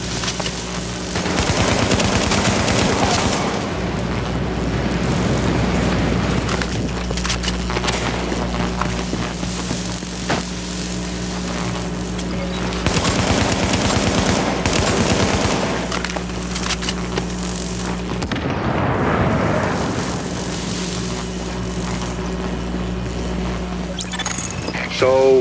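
Gunfire fills a Tom Clancy's The Division video game firefight in lower Manhattan, with bursts of automatic shots and booms recurring across the stretch, fairly loud and dense, while voices talk over parts of it.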